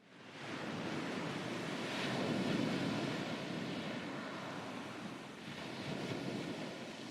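Open ocean wind and waves build into a broad, steady roar of surf, swelling gently and slightly fading in rolling surges, with no voices.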